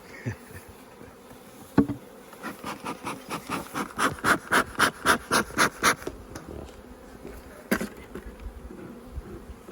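Honey bees buzzing at an open mud hive, a close pulsing drone that swells and fades over several seconds, with a few soft knocks and no talking.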